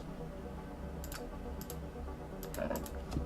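A computer keyboard is typed on during website testing, a few scattered light key clicks, quiet and close, with no talking.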